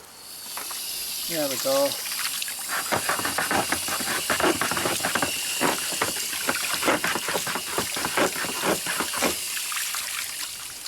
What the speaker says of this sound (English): just rinse off our little tray here